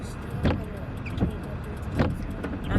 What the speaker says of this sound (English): I'm pretty sure y'all hearing the windshield wipers in the background.